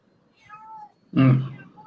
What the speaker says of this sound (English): It is my cat.